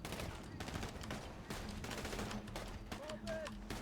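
Gunfire in GTA V on a NoPixel roleplay server, faint bursts of rapid shots crackling in a steady stream from a distance, with a brief tonal whine near the end.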